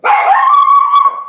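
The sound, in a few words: dog barking at the mailman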